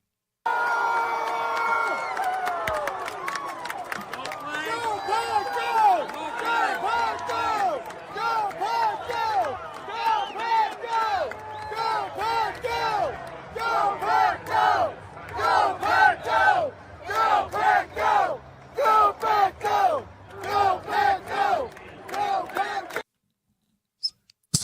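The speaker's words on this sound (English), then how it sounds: "I started that Go Pack Go chant that ended up erupting through Nissan Stadium" A football crowd at Nissan Stadium chants "Go Pack Go" in repeated rhythmic bursts, loud and massed, with the chant growing into regular pulsing shouts before stopping abruptly.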